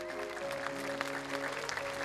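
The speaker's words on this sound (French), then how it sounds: "On peut l'applaudir." Audience applause at a 2019 show in Saint-Girons, steady clapping lasting about two seconds at moderate distance, mixed with sustained musical tones.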